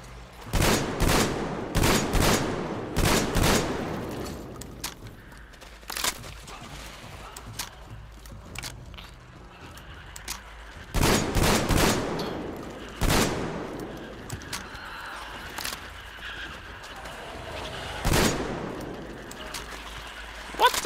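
Gunfire in the first-person shooter Metro Exodus comes as loud bursts of rapid shots in clustered volleys, separated by quieter gaps with scattered single reports and faint background rumble.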